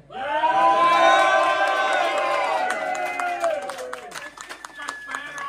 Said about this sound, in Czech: takže si zatleskejte